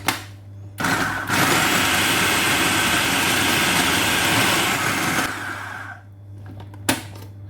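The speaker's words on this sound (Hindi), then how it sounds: "पहले हम इन तमाम तर चीज़ों को बीच में डाल के करेंगे ग्राइंड" A blender grinds garlic and a small onion for an Arabic spicy mandi sauce: a loud, steady motor whir starts abruptly, runs for about four and a half seconds, then cuts off, leaving a low hum.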